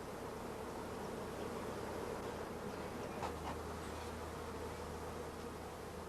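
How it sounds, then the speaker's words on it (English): Honey bees buzz in a steady, even drone while hive frames are handled during queen rearing, a continuous hum of many insects close by with no voices. "All other bees from the remaining frames are brushed into the nursing stock."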